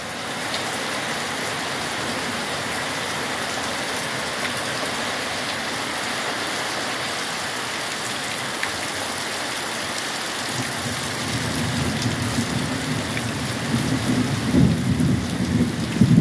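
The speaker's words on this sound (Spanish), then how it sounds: "Mira qué bonito está lloviendo acá por Barrio de Guzmán." Heavy rain pours steadily on surfaces in Barrio de Guzmán, a dense constant hiss, with low thunder rumbling in and swelling louder over the final seconds.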